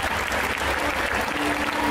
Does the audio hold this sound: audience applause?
yes